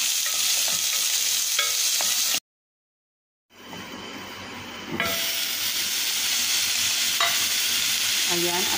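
Carrots and potato fried in a pan with white onion are stirred amid steady loud sizzling and hiss, broken by a sudden second of silence before the frying resumes.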